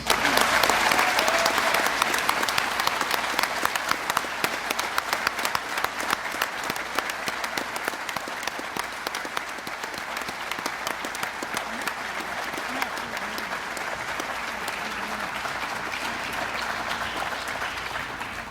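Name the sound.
applause for award recipients and their families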